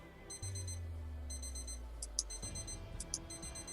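A weather station alarm goes off in a quiet room, sounding repeated bursts of high electronic beeping in regular groups, with a low hum underneath.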